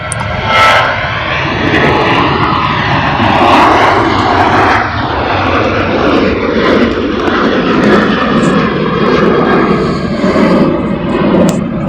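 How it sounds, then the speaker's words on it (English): A Jet2 Boeing 737-800 airliner, some 25 years old, roars steadily on approach to Manchester Airport, its engine noise loud and sustained throughout with broad rumble and whine, no voices. "it's Jet2 737-800, and that is a 25-year-old aircraft"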